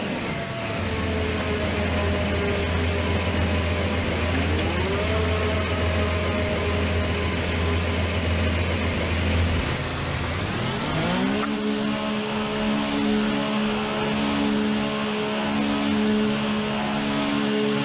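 F1 2019 race car engine pulling out of pit lane: a loud steady limiter drone holds, then the revs climb sharply as the limiter cuts out and the engine settles into a higher, harsher whine.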